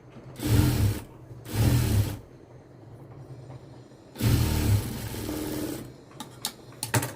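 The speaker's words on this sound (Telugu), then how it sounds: "ఈ లైనింగ్ బట్ట బయటికి పెట్టి దీనిపైన కుట్టుపడాలి" Sewing machine stitching the lining fabric of a blouse, running in two short bursts, a long steady run, then a few quick taps, close and fairly loud with no talk.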